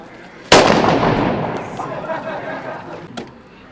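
A single sharp, loud assault rifle gunshot at a military base cracks out, followed by a long rolling echo and a fainter second report near the end.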